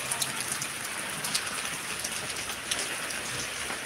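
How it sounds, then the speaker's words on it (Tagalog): Heavy rain pouring down steadily, a dense continuous hiss with scattered sharper drop impacts close by, no voices. "Ayan, lakas talaga ng ulan."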